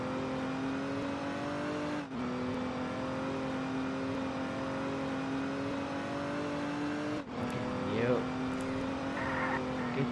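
Steady engine drone of a vehicle driven at speed in a role-play video game, with sharp dips where it shifts or brakes, while a player talks over it.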